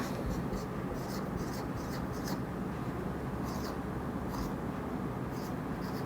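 Chalk or marker writing a definition on a classroom board during a physics lecture, with repeated short scratchy strokes in bursts over a steady background hum and no clear talk.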